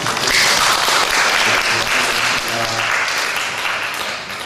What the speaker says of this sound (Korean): 우리 수고하신 분들에 대해서 박수 한번 드릴까요?